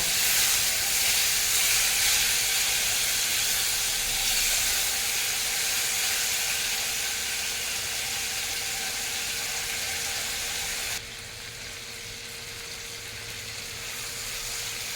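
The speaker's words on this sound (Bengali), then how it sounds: "মশলার সঙ্গে আলুটাকে খুব ভালো করে কষিয়ে নেব।" Potatoes and tomatoes with spices simmer in a pan for an egg curry, giving a steady close sizzling hiss that drops a little quieter partway through.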